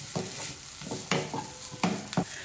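Spring onion greens stirred into vegetable momo filling in a pan, with repeated soft scraping strokes over a light sizzle, close and steady.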